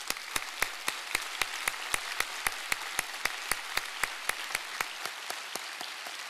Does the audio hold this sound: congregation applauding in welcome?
yes